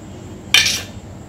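A green coriander paste drops into a cooking pan while making Vidarbha-style ukad shengole, giving one short, close, bright clatter of metal and wet paste that fades within a few tenths of a second against a quiet background.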